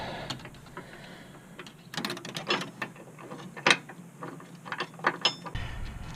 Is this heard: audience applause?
no